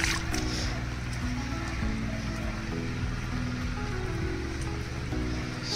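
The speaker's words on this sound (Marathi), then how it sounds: "पाऊस आला आहे" Rain falling over village fields in Konkan during the monsoon, a soft, even patter at a low level that runs unbroken throughout, with a faint low hum beneath and no speech.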